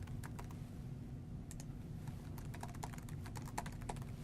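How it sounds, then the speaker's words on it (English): Rapid keystrokes as a team name is typed on a computer keyboard, a steady run of close, quiet clicks over a low background hum. "I'm just going to type the team name here"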